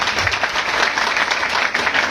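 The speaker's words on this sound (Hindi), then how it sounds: "एक बार जोरदार तालियां बजाएं सर के लिए" Seminar audience in Faridabad applauding a speaker, steady dense clapping from many hands filling the room without pause throughout.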